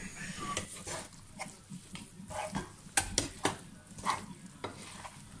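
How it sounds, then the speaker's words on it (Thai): Blanched noodles are tossed and stirred with dark and light soy sauce in a pan, giving soft sizzling with scraping and clinking utensil hits. "ใส่เส้นที่ลวกเอาไว้นะคะลงไปคลุก"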